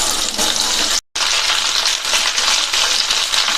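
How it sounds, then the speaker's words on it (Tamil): Brinjal sizzling steadily in a pan of hot oil over a medium flame, a loud continuous crackle and hiss broken by one brief dropout. "அடுத்து கத்திரிக்காயை சேர்த்து ஃப்ரை பண்ணிக்கலாம்."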